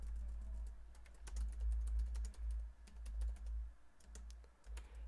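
Computer keyboard typing while entering stock trading commentary into an Excel spreadsheet: a steady run of quick, close key clicks over a low background hum, with no talking.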